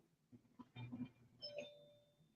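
A doorbell chimes once inside a home during a casual talk show, a faint, distant ding that rings out and slowly fades.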